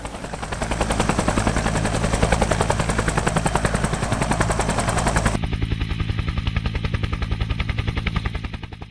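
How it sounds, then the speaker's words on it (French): A steady, rapid rotor thump beats continuously at close range, loud and unbroken throughout, with a dense roaring wash that shifts partway through. "l'hélicoptère se stabilise pour fournir un appui aérien"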